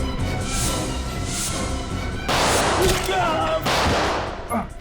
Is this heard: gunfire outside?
yes